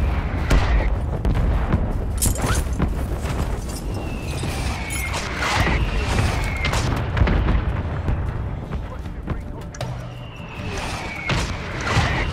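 Artillery fire mission strike in Warzone, repeated heavy booms and explosive impacts landing over several seconds, with whistling shells and some speech mixed in.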